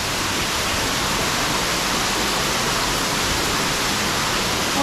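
A waterfall at a park, where water dyed a clear blue keeps flowing in a loud, steady, broadband rush that stays constant throughout and is close at hand.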